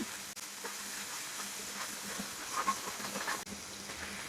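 Onion fries in chicken garlic oil while being stirred, a faint, steady sizzle with occasional soft scrapes throughout.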